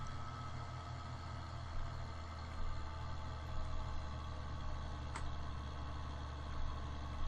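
A tractor engine in Farming Simulator 2013 with a realism mod, a steady low droning idle hum that holds evenly and fairly quietly throughout, with no talking.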